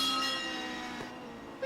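A struck gong ringing out with a long, slowly fading metallic shimmer, the sustained tone decaying steadily with no other sounds alongside.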